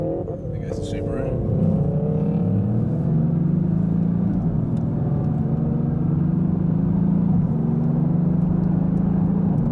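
A Subaru car drives past, a steady rumbling engine whose pitch rises and holds at a low drone, with someone talking over it throughout.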